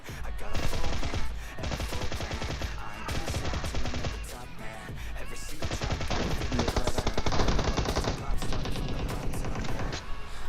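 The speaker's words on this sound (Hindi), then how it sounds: "मैं यहाँ फ्री फायर इसलिए दे रहा था कि ताकि मेरे बंदे अंदर पहुँच जाए" Sustained covering fire in a squad battle video game, with rapid automatic bursts rattling almost without pause, loud and close, and layered shots overlapping throughout.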